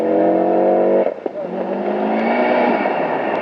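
Ari Vatanen's rally car at the 1991 WRC Wales rally, engine misfiring, heard as a loud sustained engine drone that breaks and stutters briefly, then returns with an uneven, rising note.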